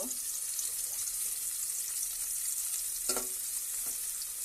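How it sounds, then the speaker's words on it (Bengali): Onion frying in a pan until it reddens, heard as a soft constant sizzling hiss with a couple of brief utensil taps, close and quiet with no speech. "আমি পেঁয়াজটা ভেজে নিব।"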